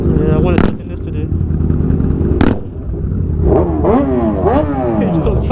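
Cruiser motorcycle idling loudly with sharp exhaust pops and cracks, followed by rising and falling revs of the engine, with people talking over it nearby.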